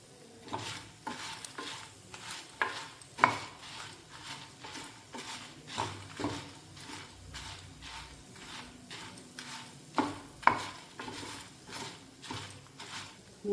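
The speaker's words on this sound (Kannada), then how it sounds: "ಜೀರಿಗೆ ಸೇರಿಸ್ತೇನೆ." Cumin seeds, then fenugreek, stirred in a hot pan of oil for hog plum modduli, giving a soft sizzle under repeated scraping strokes of a spoon, about one stroke per second, close and fairly quiet.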